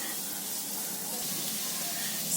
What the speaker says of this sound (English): that sizzling sound is I am cooking something at the moment